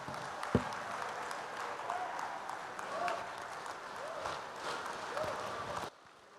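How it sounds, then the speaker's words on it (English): Applause from an audience after a political speech on African politics, sustained and fairly loud with crowd noise and some voices mixed in, stopping abruptly near the end. "Another resounding applause for Professor Patrice Lumumba."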